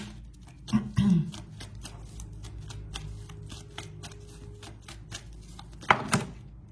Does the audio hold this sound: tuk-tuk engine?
no